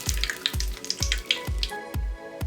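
Tempura vegetables and potato deep frying in hot oil, a steady bubbling sizzle with repeated soft low thumps in an even rhythm, close by.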